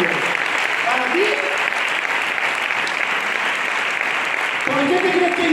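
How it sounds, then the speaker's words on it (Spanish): A church congregation claps loudly and steadily in praise during a Spanish-language service. The applause holds strong throughout, and a voice speaks over it near the start and again at the end. "Fuerte el aplauso al Señor."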